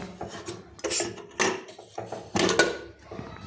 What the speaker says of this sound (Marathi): आता आपण कुकर उघडून पाहूया